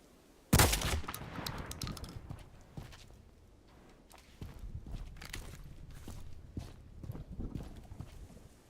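A sharp, loud shotgun blast opens the scene in a video game, followed by a run of fainter scattered shots and thuds at irregular intervals, with no talking.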